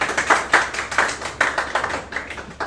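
Audience clapping to welcome a speaker at a fintech and regtech workshop of an internet governance forum, a close, fairly sparse applause with distinct individual claps in an uneven rhythm, no talk over it.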